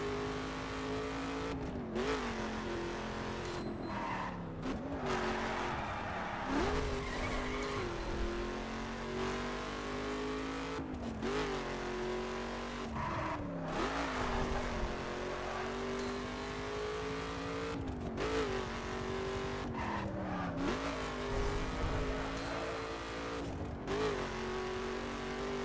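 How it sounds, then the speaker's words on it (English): A Ford Mustang racing and cornering in the driving game The Crew: a steady close engine drone rises and falls in repeated pitch swoops as it revs through turns, with occasional sharp clicks over a constant loud roar. "It's a Ford Mustang, and it cornered really nicely."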